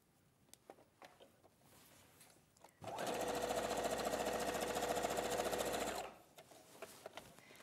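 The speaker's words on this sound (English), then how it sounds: "So I'm going to sew on the top together." Up close, a sewing machine stitches the top edge of a bag pocket in one loud, steady three-second burst, with faint handling noise before and after.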